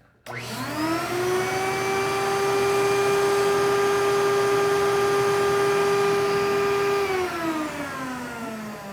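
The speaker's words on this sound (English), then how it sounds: "basically you just run the vacuum until the record is dry" A record cleaning machine's vacuum runs with a steady, loud mechanical whine and droning motor hum, starting abruptly, holding constant for several seconds, then winding down in pitch near the end.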